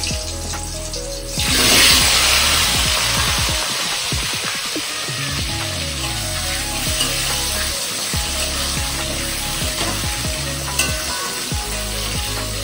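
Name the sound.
bananas and potatoes frying in leftover fish oil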